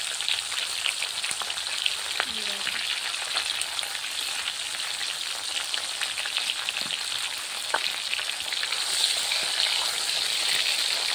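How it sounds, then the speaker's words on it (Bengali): Fish rubbed with turmeric and salt frying in hot oil, giving a steady, dense sizzle and crackle that runs the whole time with small spits and pops, close and fairly loud, with no talking. "দেখুন গরম তেলে মাছগুলো ভালো করে ভাজা হচ্ছে।"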